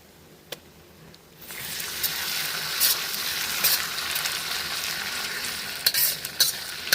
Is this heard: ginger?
yes